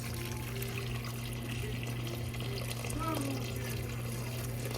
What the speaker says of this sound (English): We're gonna get this going with some water in here.